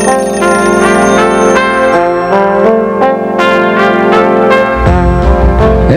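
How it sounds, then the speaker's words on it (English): An MSA pressure-demand SCBA air mask's low-air alarm rings continuously and loudly, a bright, metallic, rapidly repeating bell-like warning that fills the whole stretch without pause. "the auto alarm on the MSA apparatus sounds a continuous loud warning for about 6 minutes"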